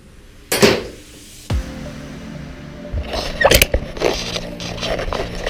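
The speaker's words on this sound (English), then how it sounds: "I just dropped my socket in there" A metal socket drops into the engine of a 1990 Honda CR500 during a rebuild, giving a sharp metallic clank, then a second knock and faint rattling and tinkling as it settles inside.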